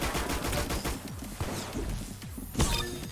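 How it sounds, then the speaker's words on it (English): Grease gun fired at close range in the Roblox shooter Arsenal, a quick burst of rapid rattling shots followed by a sharp crack near the end, fairly faint with no talking. "Let's go with the grease gun close up here."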